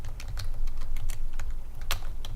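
Rapid typing on a computer keyboard, close and crisp, with an irregular rhythm of many quick keystrokes over a low background hum.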